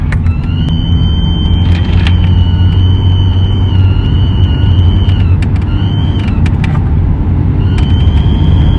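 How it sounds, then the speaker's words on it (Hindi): A car on a drive near the Syria–Iraq border in Mardin, with a suspected fan belt or turbo fault, gives off a steady high whine over a continuous low engine and road rumble. Brief clicks and knocks break in now and then. "जब मैं रेस देता हूं, एक्सेलरेशन ज्यादा देता हूं तो इसमें अजीब सी आवाज आ रही है।"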